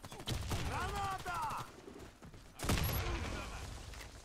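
A grenade launched in the Warface shooter game pops with a sharp burst, followed later by a second loud blast, while excited players talk over the action.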